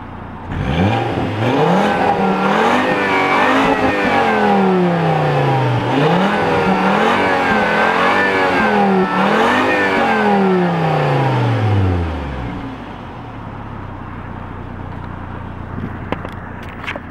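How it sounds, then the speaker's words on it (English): A turbocharged car engine revs up through its exhaust three times in a row, rising and falling loudly, then settles back to a low idle. "just rev the engine to let you hear what the car sounds like"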